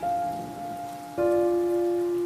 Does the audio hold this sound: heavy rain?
yes